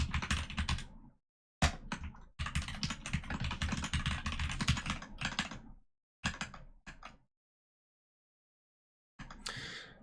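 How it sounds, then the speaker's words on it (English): Fast typing clatters on a Discord mechanical keyboard with Gateron red switches, dense bursts of keystrokes broken by several short pauses and a longer silent gap before a final flurry. "I actually have the Discord keyboard"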